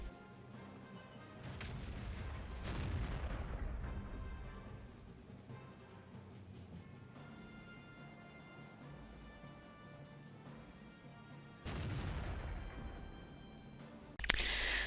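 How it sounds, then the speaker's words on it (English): Tank cannon fire from an E50M shooting at an Object 261 in World of Tanks, heavy booming blasts with rumbling tails, a big shot early, another loud blast near the end, and game ambience in between. "I'll let you see the end of the game, how the E50M kills the object 261."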